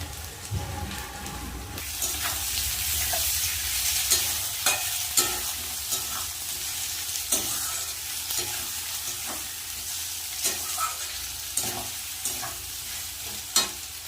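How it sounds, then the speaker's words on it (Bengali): Chopped tomatoes and green chillies fry and sizzle steadily in a pan for a fish curry, a continuous hiss broken by regular sharp stirring scrapes and taps, close by. "এবার দিয়ে দেব কেটে রাখা টমেটো আর সাথে কটা কাঁচা লঙ্কা"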